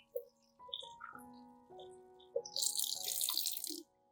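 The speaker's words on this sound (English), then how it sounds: "rinse several times with running water to ensure cleanliness and no impurities" Lemons are rinsed under running tap water, giving a soft spatter and trickle with scattered drips and light clinks, faint and close, swelling into a fuller hiss of flowing water near the end.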